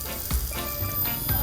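Flower-shaped K-pop krupuk crackers from Pemalang frying in oil, a continuous dense sizzle with soft bubbling, close and steady over a brief stretch.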